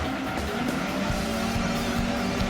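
Engine of a race car in a driving video game roaring steadily on a straight as it brakes late, a continuous close, loud drone with faint tire hiss and no talking.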